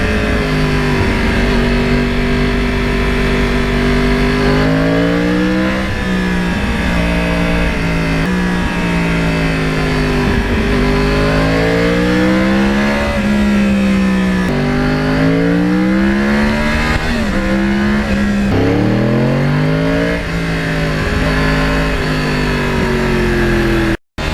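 A loud Yamaha R1 crossplane superbike engine revs repeatedly, its pitch climbing and falling in waves as the throttle is blipped, close and unbroken for the whole stretch.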